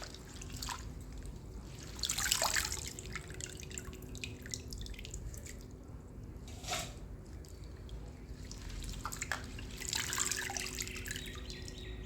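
Leafy greens (pulicha keerai) being washed in water in a kitchen: soft splashes and drips with a few louder sloshing bursts, fairly quiet and close, no talking.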